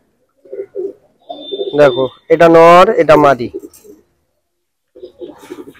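Small Punjabi Malwai pigeons, male and female, coo close by in short bursts while someone talks over and between the calls.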